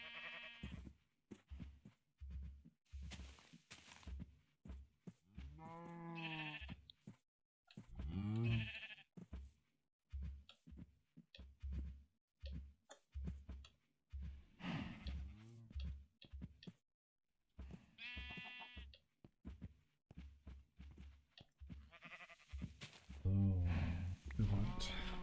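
Minecraft sheep bleat now and then during gameplay, faint and mostly buried under someone talking steadily throughout.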